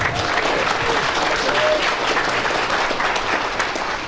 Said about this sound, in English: Let's have a big round of applause for Todd Staples